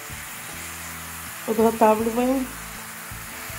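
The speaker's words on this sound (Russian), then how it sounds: "жарим грибочки" Mushrooms sizzle softly in a frying pan throughout, with a brief spoken word over it.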